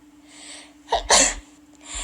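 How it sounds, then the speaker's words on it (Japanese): A single loud, close sneeze from a young woman, preceded by a soft intake of breath and followed by quiet breathing. "最近めっちゃくしゃみ出ちゃう。"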